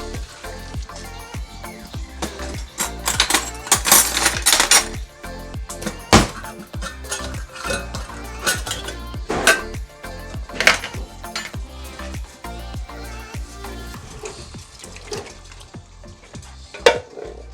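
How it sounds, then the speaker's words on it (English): Diced tomatoes go into a pot of Ghanaian spinach stew, kontomire. A busy run of clinks, spoon scrapes and wet splashes plays over steady sizzling, with no talking. "So we are going to be adding our diced tomatoes into the stew."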